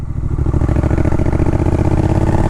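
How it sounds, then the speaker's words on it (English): A Triumph Scrambler 1200X motorcycle's exhaust rumbles close and loud with a deep, steady throbbing note. "couple that to this amazing exhaust note"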